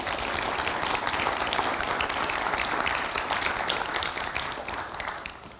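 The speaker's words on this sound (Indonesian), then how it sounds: "Kita kasih tepuk tangan dong." Studio audience at an Indonesian television talk show breaks into steady, dense applause that holds for several seconds before tapering slightly at the end, with no voices over it.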